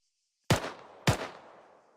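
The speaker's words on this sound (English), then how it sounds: "and then you start firing downrange" On a firing range in the ArmA 3 military simulation game, a rifle fires downrange twice, about half a second apart. Each loud, sharp report trails off into a long echoing decay, with no talking.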